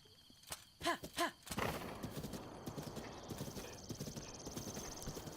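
Horse hooves clip-clopping and a whinny from a large horse in the video game The Legend of Zelda: Breath of the Wild, two loud neigh bursts early, then steady hoofbeats continuing throughout.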